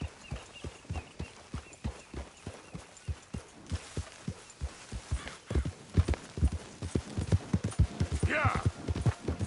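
Horse hooves clip-clop in a steady walking rhythm in Red Dead Redemption 2, close and distinct, with a voice talking over part of the stretch.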